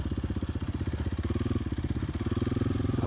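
A trail motorcycle engine thumps in a fast, even, low-pitched pulse, held in low gear at close range, with a light clatter over the steady beat.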